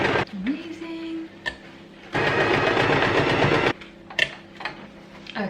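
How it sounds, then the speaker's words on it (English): A sewing machine running a straight stitch on fabric, a steady mechanical whirring hum in one continuous run of about a second and a half, close, with someone talking before and after. "we're going to do the straight stitch first and then the zigzag stitch"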